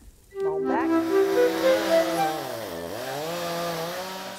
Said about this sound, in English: I hear the delicate echoes of chainsaws in the distance.